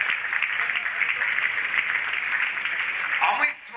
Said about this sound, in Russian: ваши аплодисменты также нашим уважаемым жюри